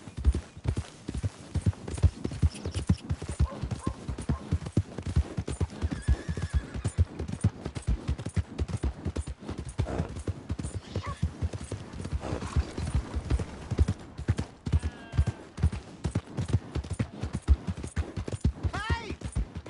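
In the Red Dead Redemption 2 video game, horse hooves clip-clop in a rapid, continuous rhythm, with a horse neighing and voices talking over the hoofbeats.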